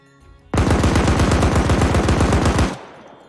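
Automatic gunfire rips out in a long, loud, rapid burst of evenly spaced shots during a PvP video game match, stopping abruptly after about two seconds.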